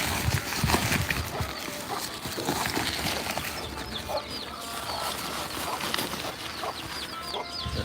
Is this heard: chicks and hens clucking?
yes